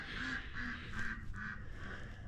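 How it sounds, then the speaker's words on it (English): Several ducks quack in a steady series of repeated calls on a small Montana cattle farm homestead, fairly close and clear with no talking. "trying to get them ducks to shut up"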